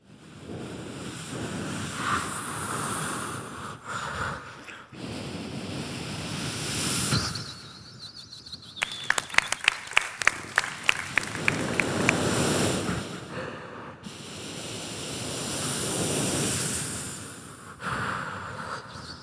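A performer imitates a seashore with the voice, making rushing surf-like swells broken by a burst of sharp clicking pops in the middle, with loud wave-like whooshes rising and falling throughout.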